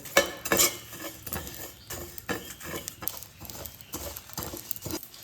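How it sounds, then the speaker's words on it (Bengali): A metal utensil clinks and scrapes repeatedly against a pan while coriander and other spices fry over a soft background hiss, with irregular sharp taps in a busy, close-up stirring rhythm. "ধনেটা এর মধ্যে ভেজে নিচ্ছি একটু নাড়াচাড়া করে সব মশলাগুলো আমি ভেজে নেব"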